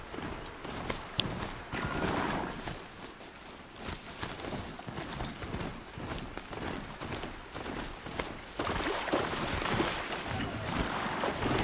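Steady clip-clop of horse hooves trotting along in Horizon Zero Dawn for the whole stretch, rhythmic and fairly close, with a soft ambient background.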